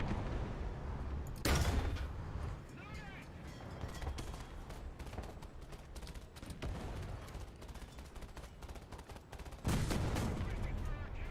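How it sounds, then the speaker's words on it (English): Heavy artillery shells land in a War Thunder tank battle, their loud booming blasts hitting near 1.5 seconds and again near 9.7 seconds amid continuous crackling gunfire and rumbling explosions. "Dropping artillery."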